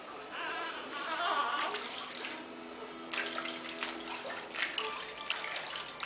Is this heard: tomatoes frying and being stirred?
no